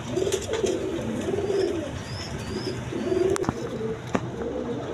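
Domestic breeding pigeons coo nearby, giving several soft, rolling coos in an irregular rhythm over a faint background hum.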